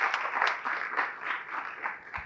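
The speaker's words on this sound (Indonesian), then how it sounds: "Berikan tepuk tangan buat Tuhan kita." A congregation at a church service applauds, a brief burst of moderate clapping that swells and fades over a couple of seconds.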